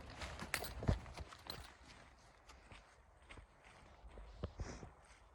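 Horses out on a walk, their hooves striking ground in scattered, uneven clip-clop footfalls, fairly close but quiet, with a few sharper knocks and no voices.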